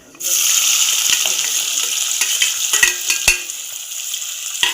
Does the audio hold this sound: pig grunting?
no